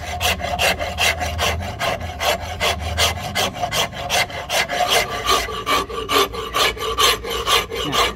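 A hand rasp files down the wooden handle of a long axe, shaping a slope near the head: a steady run of close, rhythmic scraping strokes with no voices.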